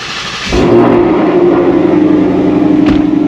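A Ford Mustang's engine kicks in abruptly and settles into a steady low running hum, close by, with a brief click near the end.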